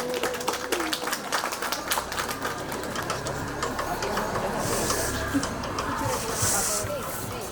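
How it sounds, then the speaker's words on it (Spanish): Audience applause at an outdoor festival of avocado and guarapo in Pachamarca: a dense, steady crowd clapping that holds at an even level throughout, with voices mixed in underneath. "Vamos a recibir con fuerte voto de aplausos"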